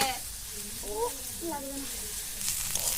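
Wild mushrooms fry in a pan with a steady, close sizzle and hiss, with a few stirring scrapes and a voice talking briefly over the cooking noise.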